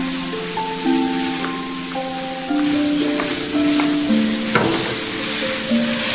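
Noodles stir-fried in a wok with a splash of dark soy sauce, a rural Henan steamed-noodle dish: steady close sizzling and crackling oil with scraping turns of the spatula, no talking.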